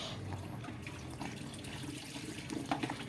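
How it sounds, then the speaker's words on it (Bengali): Water poured onto mud or soil to soften it, a continuous watery rush and splash with some low gurgling, steady and close throughout the short stretch, no speech. "জল দিয়ে জল দিয়ে নিচ্ছি"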